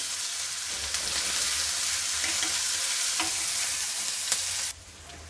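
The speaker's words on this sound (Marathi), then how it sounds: "कांदा पण आता छानपैकी लाल होईपर्यंत परतून घ्यायचा आहे" Chopped onion frying and being stirred in a pan until reddish brown, a steady close sizzle with a few scraping stirs, cutting off abruptly near the end.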